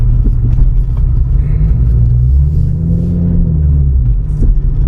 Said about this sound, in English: I definitely love the noise it makes when you put the gas pedal down, hearing the RPMs go up.